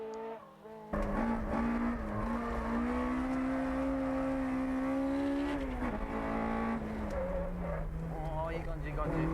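Drift car, a Hachiroku, launching flat out on a track after a brief quiet start, a loud sustained engine howl with squealing tires that holds steady and then shifts pitch near the end, a voice faintly under it.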